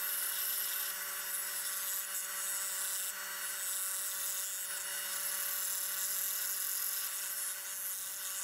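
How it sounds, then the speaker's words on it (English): A large drill bit bores out the inner pieces of a wooden heart-shaped fossil holder, giving a steady, close, high-pitched whine that continues without pause and with no talk. "I used a large drill bit to cut out a lot of the inner pieces where the fossils will sit"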